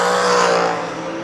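A dragster launches hard down the strip at a drag race, its engine blasting loud and close in a brief rising roar that fades slightly as it pulls away.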